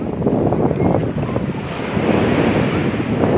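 Sea waves washing onto a beach near the Burj Al Arab in Dubai, a steady loud roar of surf mixed with heavy wind buffeting the microphone.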